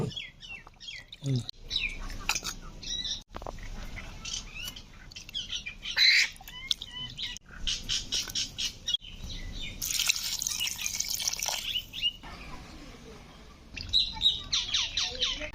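Several mynas squawk and chatter in harsh, repeated bursts, with sharp calls overlapping and a faint dripping sound in the background.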